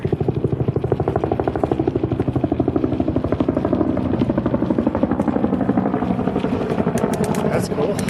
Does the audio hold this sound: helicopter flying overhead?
yes